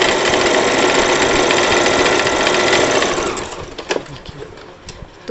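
An electric sewing machine stitches a rumali seam on salwar fabric, whirring loud and continuous for about three seconds before it slows and stops. A few soft clicks and fabric handling sounds follow.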